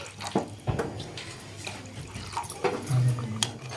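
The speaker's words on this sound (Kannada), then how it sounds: "ಈಗ ಇದ್ರೊಳಗೆ ನೀರು ಹಾಕೊಳ್ಳೋಣ್ರಿ" Water splashes and pours into a pot of palak (spinach) kofta gravy with gurgling, bubbling sounds, close and moderately loud, with faint clinks.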